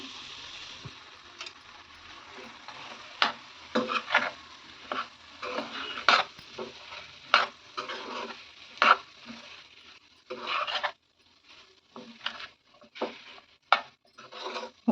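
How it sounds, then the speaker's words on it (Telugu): Fried cauliflower pieces being stirred into gravy in a pan, a series of irregular scraping stirs and soft clatters over a quiet, low sizzle. "ఇందాక ఫ్రై చేసిన క్యాలీఫ్లవర్ ముక్కలు ఉన్నాయి కదా అవన్నీ వేసి మంచిగా మిక్స్ చేసుకోవాలి"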